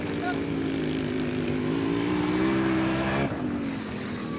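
A quad bike engine idles steadily right after starting, a continuous low motor drone at moderate distance, with a brief dip near the end.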